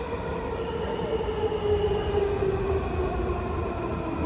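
Metro train rolling along rails, a continuous loud rumble with a sustained high wheel squeal running through it, heard from inside the car with no talking.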